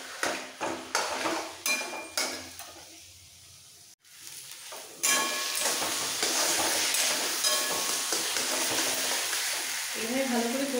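Spice paste with ground chili and red chili powder stir-fried in a pan for a hilsa fish dish: repeated scraping spatula strokes against the pan, then a steady loud sizzle with occasional metal clinks.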